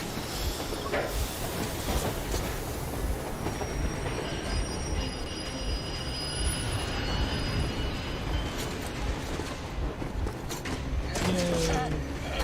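A train rumbles past in the Moscow level of the video game Metro Exodus, with steady loud rail noise, squealing wheels and thin metallic whines throughout, and a voice murmuring faintly underneath.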